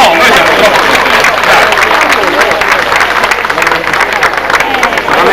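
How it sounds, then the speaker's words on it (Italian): A crowd at a folk poetry and song event breaks into loud, sustained encouraging applause, dense clapping with some crowd murmur mixed in, continuing steadily and close. "Un applauso di incoraggiamento però"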